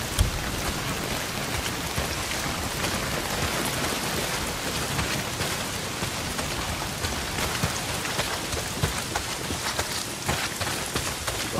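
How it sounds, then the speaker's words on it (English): Heavy rain pours down steadily in the open-world game Days Gone, a dense, continuous hiss of drops hitting surfaces that stays loud and unbroken throughout, with no voices over it. "Well, not if it's pissing down rain."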